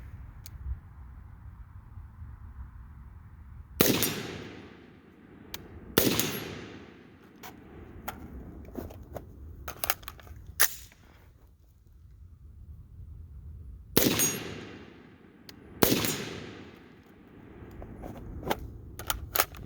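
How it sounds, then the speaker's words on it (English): Rifle shots fired at a low-round-count practice session, four sharp loud cracks in two quick pairs, each ringing out, with quieter clicks and handling noise between them. "You don't have to shoot as fast as I am or anything, but it's totally up to you."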